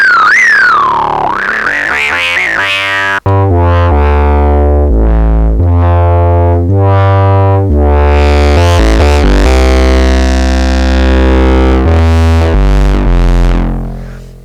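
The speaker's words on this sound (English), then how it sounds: "It's some sort of distortion that is vaguely filter related, and it just makes everything crunchy and saturated." An Arturia MiniBrute analog synthesizer with its Brute Factor distortion turned up plays loud, crunchy, saturated notes, a sweeping opening tone followed by a run of buzzy pulses and filter swells.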